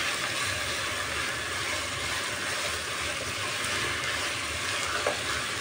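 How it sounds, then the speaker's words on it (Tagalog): Chicken pieces searing in a hot pan with a loud, steady, dense sizzle that stays constant throughout, close up and without talk. "Ayan, sangkutsahin lang natin mabuti"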